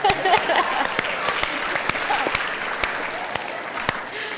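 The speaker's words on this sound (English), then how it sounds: "Let's give a round of applause for the gentleman who came up with it." Audience applause at a junior pageant preliminary night, steady dense clapping with sharp individual claps standing out, sustained and fairly loud throughout.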